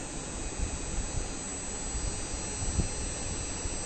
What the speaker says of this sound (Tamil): இன்டோர் அவுட்டோர் ரெண்டுமே ஓடுது.